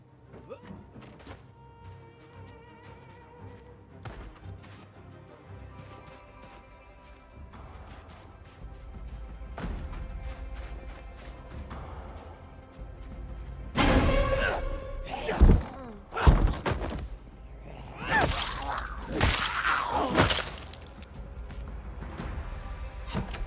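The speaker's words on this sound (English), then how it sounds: "That door's locked. That's the reason why they were banging." Zombies pound on a locked door in Project Zomboid, with muffled thuds building into a loud cluster of heavy bangs and crashes toward the end over a low game ambience.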